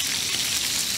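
Beef goes into a hot pan with fried onions for a stew, a dense, loud sizzling hiss that holds steady through the moment.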